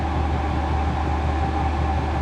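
A Vevor 8kW 12V diesel heater runs inside a small ice shack, giving a loud, steady, close-up droning hum with a pulsing low rumble and a constant fan whoosh.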